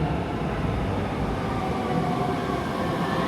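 A Japanese-made metro train arrives at an above-ground park station in Ho Chi Minh City, giving a steady, loud rumble of wheels and carriages rolling in close by, with no talking.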